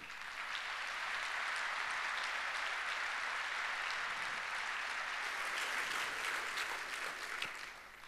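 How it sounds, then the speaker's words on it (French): A large audience applauds in the Algiers opera house during an anniversary event, a sustained, even roar of many hands that carries on unbroken, sounding somewhat distant and filling the hall. "Je vous demande de l'applaudir, messieurs, dames."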